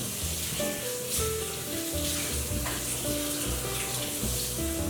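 Cold tap water runs steadily over pho soup bones for Hanoi-style pho being rinsed in a kitchen sink, a continuous close splashing hiss with no talking.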